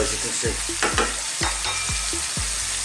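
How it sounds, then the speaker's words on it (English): Chicken pieces frying in a pan for curry, a steady sizzle with regular scraping strokes of a stirring utensil about twice a second, close up, with brief talking. "This has literally just been frying around for a couple of minutes"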